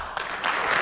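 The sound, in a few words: audience applause at Apple Watch announcement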